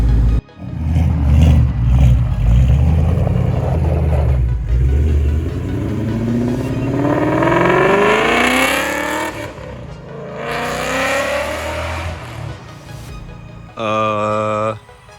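A Ford Mustang fitted with LTH headers drives and revs loudly close by, its engine note climbing in repeated rising sweeps through the gears, with a short sharp blip of revving near the end.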